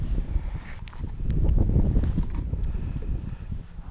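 Gusty wind buffeting a microphone at an exposed point while fishing, a low rumbling roar that swells in the middle and stays close and loud, with a few faint knocks.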